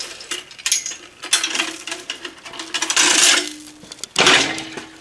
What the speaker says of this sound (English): Let me go ahead and undo my bolt.